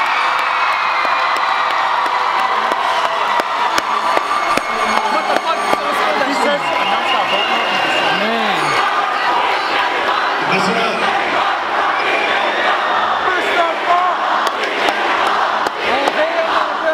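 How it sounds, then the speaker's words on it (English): Audience cheering and applause at a school awarding event, a loud dense crowd of shouts, whoops and chatter sustained throughout, with voices rising and falling close by. "Applause, everybody."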